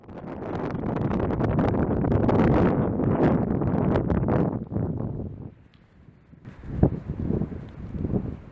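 Strong gusting wind buffets the microphone outdoors with a loud, continuous roar that drops briefly before picking up again in short bursts.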